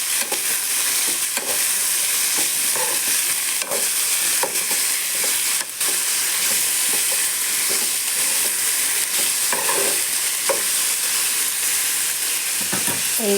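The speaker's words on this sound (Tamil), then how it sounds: "காய் சேர்த்துட்டோம், வதக்கிக்கலாம்." Broad beans are sautéed in a pan, giving a continuous close sizzle and frying hiss with intermittent scraping and stirring clatter, and no talking.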